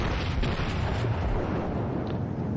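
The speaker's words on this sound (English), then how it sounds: "Just some widespread artillery fire" Battleship gunfire in World of Warships from the Japanese Kawachi, heard as a dense, continuous low rumble of distant heavy booms with no clear separate shots.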